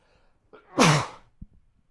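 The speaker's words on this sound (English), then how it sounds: "I'm going to sneeze." A single sharp, loud sneeze bursts out close by, followed by a small sniff or click, with near silence around it.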